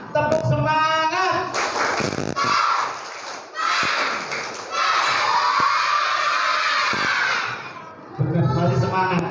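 An audience in a morning religious gathering claps a lively patterned rhythm in bursts, mixed with shouting and cheering voices, loud and close, with a voice speaking at the start and end.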